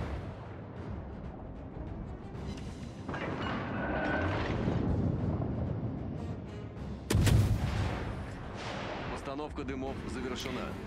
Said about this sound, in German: hat auch die Kriatschi recht schnell feuernde Kanonen